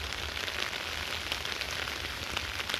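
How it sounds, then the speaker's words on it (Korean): Steady rain with wind falls on a garden of flowering plants, a continuous close hiss of drops striking surfaces with no voices. "어제와 오늘의 이틀간에 이렇게 비가 내려서 비뿐만이 오는 게 아니라 바람이 불어가지고"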